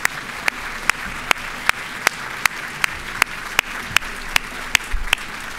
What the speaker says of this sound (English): Please join me in giving all of our speakers a round of applause.